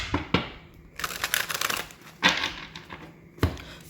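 Tarot cards being shuffled up close in several short bursts of crisp, rapid flicking, with brief pauses between riffles.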